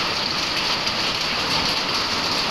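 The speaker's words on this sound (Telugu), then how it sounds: "ఈదురుగాలులతో కూడిన భారీ వర్షం కురిసింది" Heavy rain with gusty winds pouring down over Kamareddy town and nearby villages in Telangana, a dense, steady hiss of rainfall close by, unbroken throughout with no voices.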